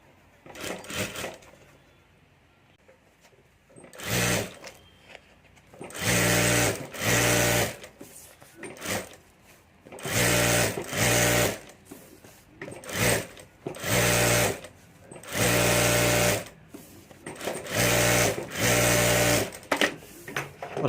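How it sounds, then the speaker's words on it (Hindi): Sewing machine stitching fabric onto a rubber sheet while making a handbag, running in repeated bursts of a few seconds separated by short pauses, loud and close. "तो यहाँ ऊपर मैं चारों तरफ सिलाई कर"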